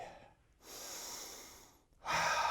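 Deep breathing during a Shotokan karate class: one long, slow, airy inhale, a brief pause, then a loud forceful exhale, close and with no talk.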